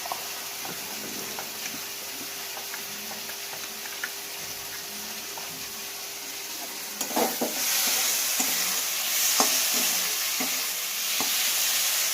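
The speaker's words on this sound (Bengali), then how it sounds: "দেখো মশলাটা ভাজা ভাজা হয়ে গেছে" Spice paste fries in a pan for a lotte fish recipe. A low, steady sizzle turns louder and brighter partway through, with scattered stirring taps and scrapes.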